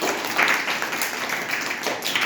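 Schoolchildren in a first-grade maths class clap together in a steady, dense burst of applause lasting a couple of seconds, close and fairly loud.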